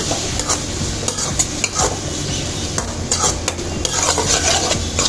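Egg rice is stirred briskly in a hot pan over higher heat, a spatula scraping and clattering against the metal in rapid repeated strokes over a close, loud sizzle.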